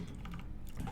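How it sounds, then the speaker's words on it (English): Rapid keystrokes on a computer keyboard while coding a React e-commerce store, a short, close burst of clicks with no speech. "I want you to be able to see what I'm typing"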